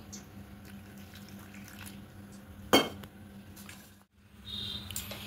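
Bread pakora batter being mixed with water in a bowl: steady faint wet stirring and scraping, a sharp clink against the bowl near the middle, a brief pause, then more sloshing and tapping.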